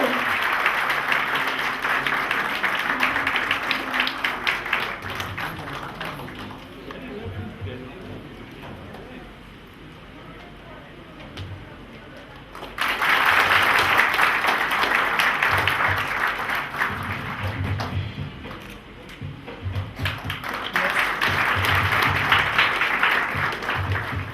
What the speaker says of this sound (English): Clapping में कमी नहीं, क्लैपिंग करते रहो.